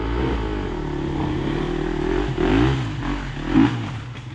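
An enduro motorcycle engine restarts after stalling and rumbles close by, revving up twice in short surges over a steady idle.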